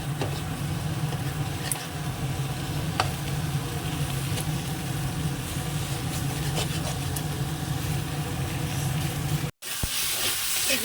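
Continuous oily sizzling and crackling of fish pieces frying in oil in a pan, steady and close, with a brief dropout near the end.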